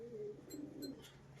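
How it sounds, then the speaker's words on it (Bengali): Fancy pigeons coo softly in a loft, a few low, faint burbling coos in close succession with no talking. "তো চারখানা পায়রা দেখাবো, খুবই সুন্দর পায়রা"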